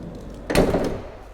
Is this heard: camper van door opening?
yes